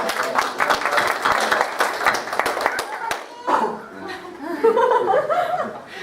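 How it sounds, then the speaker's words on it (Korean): A church congregation at a Sunday service in Auckland claps in a short burst that fades after about three seconds, followed by laughter and voices. "박수 한번 치고."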